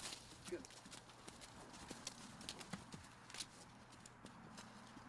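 Rhythmic clip-clop of hooves from a walking horse, fairly faint, with a steady background hum and occasional soft thumps.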